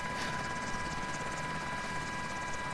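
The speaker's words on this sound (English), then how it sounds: "Watch out for the chopper." A helicopter in Call of Duty Modern Warfare battle royale hovers nearby as a steady, loud rotor drone with a sustained whine, continuous throughout and without talk.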